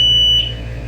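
A Tuya WiFi strobe siren home alarm gives a loud, piercing electronic tone up close, cutting off partway through and leaving a low hum.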